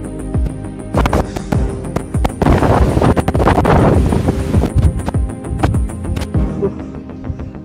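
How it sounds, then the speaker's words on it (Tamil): Strong wind roars across a hilltop lined with windmills, buffeting the microphone in loud, gusty bursts with heavy thumps, rising and falling over several seconds. "என்னடா இது உஷா ஃபேன்ல வர்ற மாதிரி என்னமா காத்து வருது? காத்து தான் வருது"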